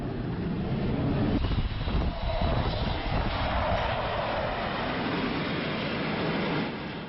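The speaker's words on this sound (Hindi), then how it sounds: "तेजस और MiG-29 का उतरना और उड़ान भरना" Tejas and MiG-29 fighter jets landing and taking off make a loud, sustained roar that swells and holds for several seconds, then fades slightly.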